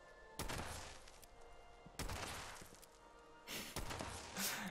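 Gunfire in the online game Fallout 76, with a few sharp bursts of shots spaced apart over a couple of seconds, fairly loud against a quiet background.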